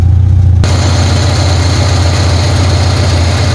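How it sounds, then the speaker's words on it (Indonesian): A 1995 Peugeot 405 automatic idles just after being started, a loud, close, smooth and steady engine rumble with a leaking exhaust, running alone without talk. "Mesinnya halus, nggak ada pincang, nggak ada brebet."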